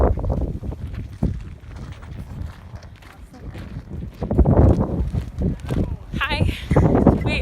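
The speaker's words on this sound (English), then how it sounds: "it's actually just windy" Wind blowing outdoors on a chilly day, buffeting the microphone in uneven gusts that swell louder toward the end, with some voices mixed in.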